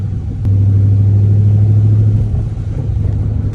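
Dodge Charger RT spinning its wheels on wet pavement in the rain with traction control off, the engine holding a loud steady low drone for about two seconds before easing into an uneven rumble.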